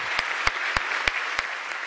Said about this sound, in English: So I would invite audience to join me in applause,